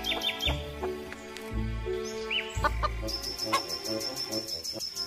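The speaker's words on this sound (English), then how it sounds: "H for hen." Hen clucking and calling amid other bird chirps, a series of short throaty clucks and a rising squawk, fairly close and clear, with higher tweeting layered over the latter part.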